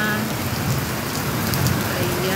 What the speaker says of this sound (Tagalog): Lakas ang ulan yan na.